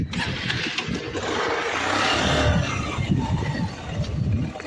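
Engine of a vehicle stuck in mud being driven out while off-roading in heavy rain, revving and labouring in uneven surges with a rough low rumble, close and loud.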